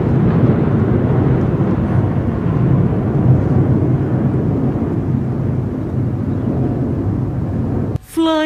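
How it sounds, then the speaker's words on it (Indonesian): A loud, steady rotor-and-engine roar fills the air throughout, a helicopter carrying a huge red-and-white flag passing close overhead at an Indonesian Independence Day ceremony, cut by a brief gap near the end. "Helikopter pembawa bendera merah putih berukuran 20x30 meter."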